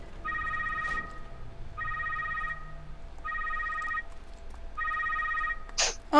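Several telephones ring inside the Secret World Legends game, repeating bursts of electronic bell tones at a steady rhythm, four clear rings with short gaps between them, moderately loud over a quiet background hum, followed by a brief rustling sound at the end.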